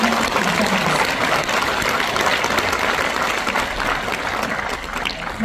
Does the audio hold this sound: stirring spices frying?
no